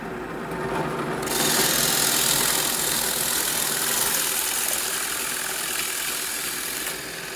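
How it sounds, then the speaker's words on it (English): Power drill driving a 2 1/4 inch Forstner bit through a hole in a shop-made router plate, a steady loud grinding whir that starts abruptly and runs for several seconds before easing off. "I'll use a 2 1/4 inch Forstner bit to cut the through hole"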